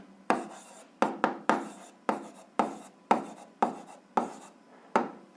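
Hand writing out an algebra equation, a series of about eleven distinct scratchy pen or chalk strokes in quick irregular bursts, close and clear with no talk.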